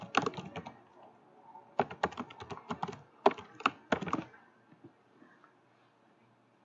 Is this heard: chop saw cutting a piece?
no